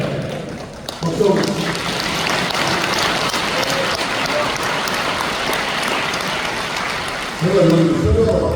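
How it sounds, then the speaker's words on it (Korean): Audience at a national elders' assembly opening worship service breaks into applause, a steady wash of clapping that fills the space, with brief voices near the start and end. "박수."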